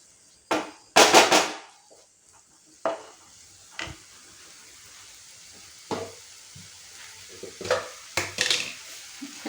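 A spoon scrapes and clatters against a pan while gram flour is stirred into an ivy gourd masala, in scattered bursts of scraping separated by quiet pauses, with a faint sizzle underneath.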